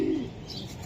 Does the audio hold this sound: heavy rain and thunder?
no